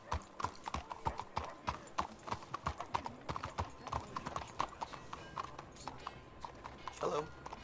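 Horse hooves clip-clop steadily in Red Dead Redemption 2, a brisk rhythmic run of close, distinct footfalls with a brief whinny-like flourish near the end, under background game ambience.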